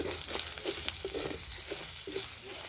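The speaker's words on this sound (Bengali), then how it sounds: "মধ্যে আমি চুড়ে রাখা আদাটা দিয়ে দিচ্ছি" Crushed ginger dusted with turmeric fries in hot oil with a faint, steady sizzle, broken by soft intermittent crackles and light stirring taps.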